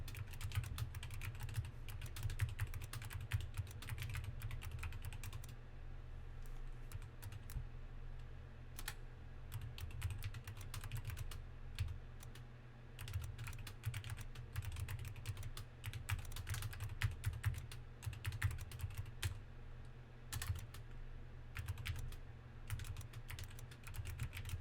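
Quiet, steady typing on an Apex Pro computer keyboard, with a continuous patter of close key clicks and no voices.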